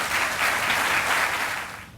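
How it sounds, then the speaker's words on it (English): A ribbon-cutting crowd applauds steadily for a mayor, a dense wash of clapping that holds for about two seconds before tapering off, with no voices over it. "So please welcome and round of applause to our great mayor, Mayor Cope."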